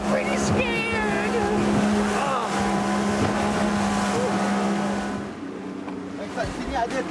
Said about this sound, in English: We're on this tiny little boat.